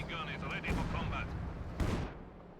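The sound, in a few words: heavy mortar firing in video game Company of Heroes 2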